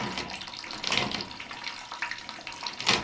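Water runs down a drain during drain cleaning, making a soft, continuous rushing trickle with a couple of brief louder splashes, fairly quiet and with no voices.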